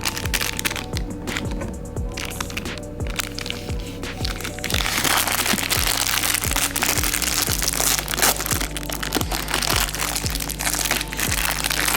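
Coconut being chewed, with close, loud, repeated crunching and cracking bites at an irregular rhythm, growing denser in the second half.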